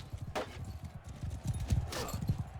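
Horses gallop in the video game Bannerlord, a busy, steady drumming of hoofbeats with a brief whinny-like cry amid battle noise throughout.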